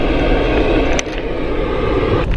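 Interior of a car driving along a road, a steady low engine and road rumble with a brief click or knock partway through, continuous and close.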